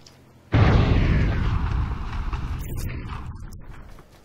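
An explosion in PUBG, a sudden loud blast that hits hard and then rumbles and decays slowly over several seconds, heard on its own.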